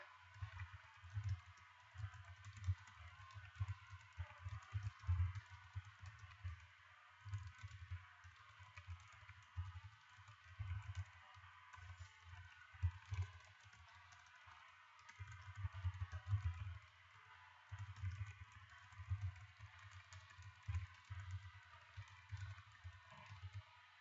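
Steady computer keyboard typing, a run of quick soft key clicks in irregular bursts with brief pauses, close and fairly quiet, no voices.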